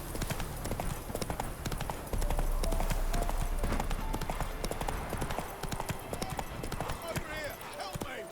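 Roach, a horse in the video game The Witcher 3, gallops in a fast, steady clip-clop of hooves that stays loud and close throughout, mixed with game ambience and brief spoken voices.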